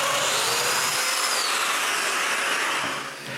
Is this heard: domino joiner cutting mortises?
yes